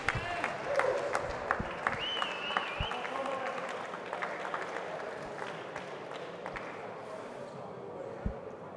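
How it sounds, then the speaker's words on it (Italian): A boxing crowd at the Memorial Vecchiatto 2019 applauds after a technical knockout in the third round, with scattered claps and crowd noise under a voice talking over them throughout. "Secondo me si può fare un applauso anche più forte"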